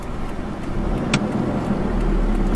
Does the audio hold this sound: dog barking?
no